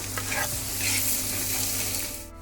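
Chopped onions, a dried red chilli and several green chillies sizzle and spit steadily in hot oil in a pan, with occasional stirring, close and fairly loud, no talking.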